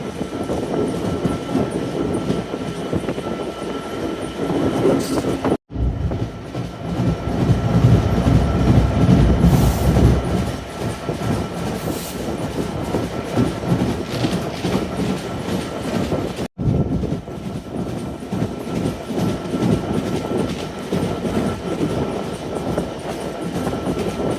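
An Intercity Ruposhi Bangla Express train runs along the rails, a loud continuous rumble with rhythmic clickety-clack from the wheels, recorded from on board with no talking.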